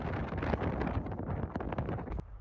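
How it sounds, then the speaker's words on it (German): Strong wind at a beach blusters hard against the microphone, a loud, ragged rumbling roar with gusting bursts that drops away at the end. "Und wie ihr seht, pustet der Wind mir ganz schön stark ins Gesicht."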